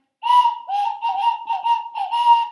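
A whistle blows a steady shrill tone with a few warbling trills, loud and close, sounding alone.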